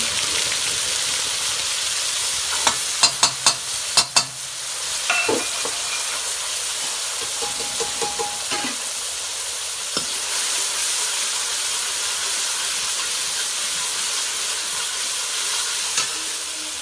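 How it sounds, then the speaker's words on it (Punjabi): Sliced onions sizzle in hot oil in a kadai over a chulha, a steady loud frying hiss with a few sharp clatters of stirring early on. "ਇਹਦੇ ਵਿੱਚ ਆਪਾਂ ਤੇਲ ਪਾ ਦਿੰਨੇ ਆ ਤੇ ਜੀਰਾ ਹੈ ਨਹੀਂ ਸੀ ਡਾਇਰੈਕਟ ਆਪਾਂ ਪਿਆਜ਼ ਪਾਤੇ ਸੀਗੇ"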